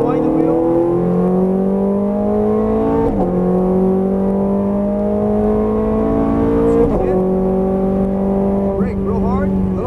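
A Ferrari F430 Scuderia on track at full throttle, its engine note loud and close, climbing steadily in pitch, with two quick upshifts that break the rise before it winds up again.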